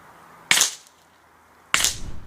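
Two sharp, loud rifle shots about a second apart, each with a short ringing tail, fired at targets 90 metres away in a practical minirifle competition.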